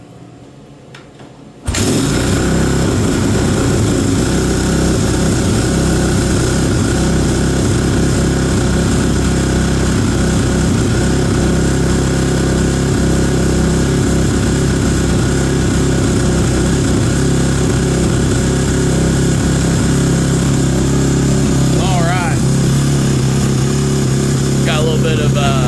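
Kawasaki 450 motorcycle engine fired up after a freshen-up, cold and running at high idle, a loud steady close-up drone that starts abruptly after a short quiet moment and holds evenly throughout.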